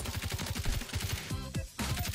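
Rapid automatic fire from the TAC Evolve rifle in Call of Duty MW3, a dense stream of close, loud shots with a brief gap before firing resumes.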